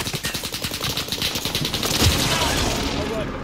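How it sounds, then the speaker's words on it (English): Video game combat: rapid, loud bursts of automatic gunfire followed by a sustained roaring rumble of airstrike explosions that fills the second half. "Airstrikes and go. Airstrikes come off."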